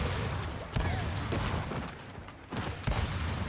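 Grenade blasts in the Gears of War 4 game, several dull, heavy explosions spaced over a few seconds against constant loud battle noise.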